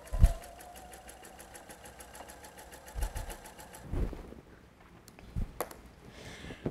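A sewing machine runs steadily, stitching a seam across a rail fence quilt block, its motor humming at close range with a few louder clunks and a brief pause near the end.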